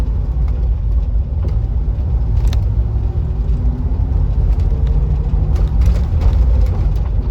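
Land Rover Discovery 3 V8 with a manual R380 gearbox, running on LPG, driving along a road: a steady low engine rumble and road noise heard from inside the cabin, continuous and fairly loud throughout.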